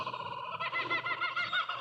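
A kookaburra calls from a power pole, its rapid chuckling bursts of about two seconds fairly faint and distant against quiet outdoor background.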